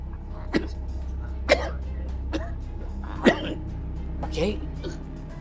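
Several short, sharp coughs spaced a second or so apart, at moderate volume over a low steady hum.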